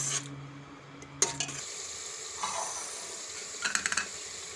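Spice masala cooks in hot oil for guvar dhokli curry, a low steady sizzle with a few stirring scrapes and light clinks from the pan.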